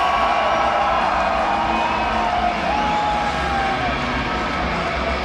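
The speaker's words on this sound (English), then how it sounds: "This crowd is not partial to either rider. They're lighting it up for both of them." A stadium crowd roars and cheers steadily for freestyle motocross riders at a Red Bull X Fighters event in Canada, a loud, dense wash of voices sustained throughout with no pauses.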